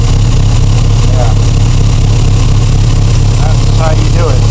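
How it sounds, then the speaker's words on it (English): A Triumph TR4 engine runs smoothly at an even, steady idle, a low continuous hum with no misses, while people talk briefly over it. "Look how flat and stable the motor's running."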